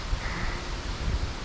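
Gusty wind on a chilly fall day in the woods, a soft low rumble of buffeting air across the microphone with faint leafy rustle, brief and moderately quiet.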